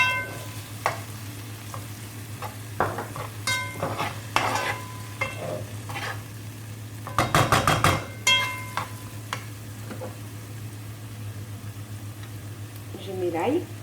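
Onions frying and sizzling in a pan as a lamb shank dish is prepared, with repeated scraping stirs and clatters over a steady sizzle and a burst of louder stirring midway, while a person talks.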